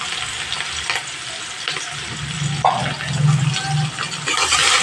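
Chopped onions frying in hot oil with a dried red chilli, bay leaves, cinnamon, cloves and cardamom, giving a steady close sizzle with stirring clatter and a louder burst of frying midway.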